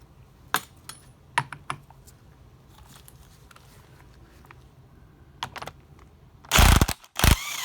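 Metal parts of a Mercedes 190SL steering gear box being worked loose as its spring cap is unscrewed: scattered sharp mechanical clicks and ratchet-like taps, then a louder burst of grinding metal near the end.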